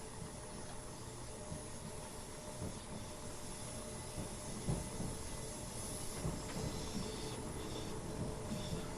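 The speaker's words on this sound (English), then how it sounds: "So I guess you get to sit and watch some trains." A Class 319 Connex train running between London and Brighton in Train Simulator 2016, a continuous faint rumble of rolling wheels with rail clicks and a light hiss.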